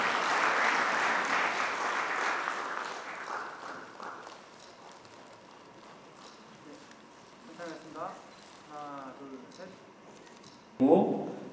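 Audience applause at a Daegu emergency medical ceremony fills the opening seconds, then fades as a person begins talking and the hall quiets.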